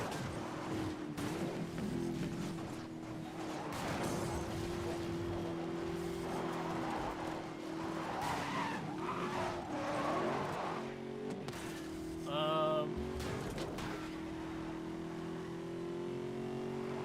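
Ford Mustang race in Need for Speed: Most Wanted, engine droning steadily with revs rising and dropping through gear changes, a brief tire screech midway and the hum of other traffic, no talk over it.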